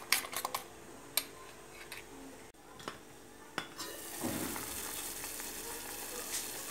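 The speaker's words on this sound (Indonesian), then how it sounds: "Ini saya mau dadar telur teman-teman" Egg omelette with spring onion, salt, MSG and pepper frying in a pan, a steady close sizzle rising in the second half after scattered clinks of a utensil against the pan.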